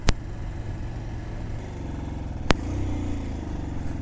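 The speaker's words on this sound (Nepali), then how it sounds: "कति गेरमा छ मेरो बाइक दुईमा तानिरहेछ" A motorcycle pulls steadily in second gear on a rainy road near Pokhara, a close, even engine drone with two sharp clicks, and no talking.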